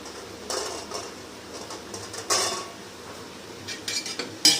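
A ladle stirs mutton biryani in a pot as mint and coriander go in, giving a few scattered metallic scrapes and clinks against the pot, separated by quieter gaps, close by with no talk.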